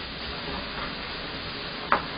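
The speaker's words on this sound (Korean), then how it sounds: "양파가 투명해질 정도로 볶아주세요." Onions stir-fry in a wok for Korean-Chinese jjajang sauce, a soft continuous sizzle with light stirring and one sharp utensil clink near the end.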